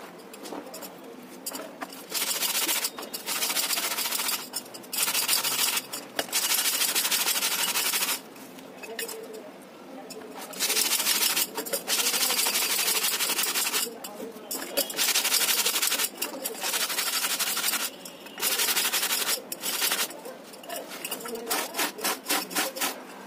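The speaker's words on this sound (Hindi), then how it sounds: "ये वाइट कपड़ा है, ये हम उसी तरह से ब्रश मारेंगे।" Brush strokes scrub a wet white cloth in repeated bursts, a harsh rasping scrape that starts and stops in an uneven rhythm, close and fairly loud, with brief pauses between strokes.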